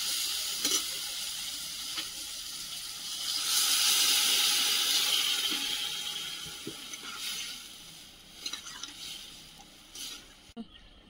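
Water poured into a hot pan of fried okra, tomato and prawns bursts into a loud steady hiss and sizzle that swells, then gradually settles with a few sharp crackles, close by.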